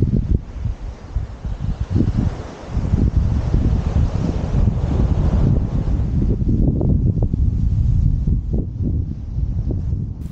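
Strong wind buffeting the microphone on a beach during sea fishing at Aldbrough on the Holderness coast, a loud continuous low rumble with gusty surges and faint rustle, no voices.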